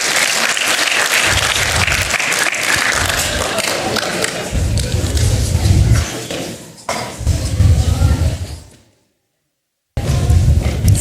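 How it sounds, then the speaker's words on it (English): Students clap loudly for a classmate called up to the front of a classroom, sustained and close with thumping hits, then a brief dropout before the clapping resumes. "let's clap for Benjamin to come up here."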